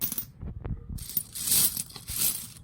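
An Indian 1 rupee coin being handled, with quiet clicks and taps of metal followed by brighter jingling, metallic clinks, close and fairly faint.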